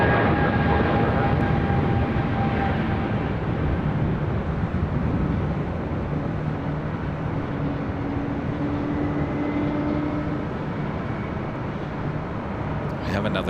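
A jet airliner rolls for takeoff on runway 24 left at LAX, a broad steady engine roar heard from a distance throughout, with radio chatter and talk over it.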